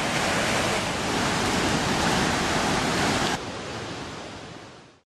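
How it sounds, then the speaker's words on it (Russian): Roar of a huge waterfall that local people call "thundering smoke", a dense, steady, loud broadband rush that drops in level partway through and then tapers off toward the end. "Коренные жители называют водопад «гремящий дым»."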